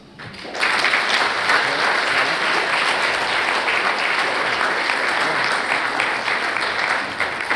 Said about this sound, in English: And you all deserve a big round of applause.